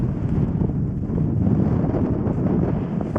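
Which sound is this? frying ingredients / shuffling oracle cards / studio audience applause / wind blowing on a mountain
wind blowing on a mountain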